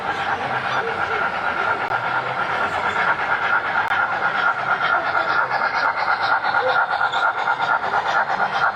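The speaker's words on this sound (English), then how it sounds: "Oh, here's the steam train. Everyone is very fascinated by this one" A model steam train runs at a train show in Manassas, Virginia, giving a steady rolling clatter and hum that continues throughout, mixed with constant crowd chatter in a busy hall.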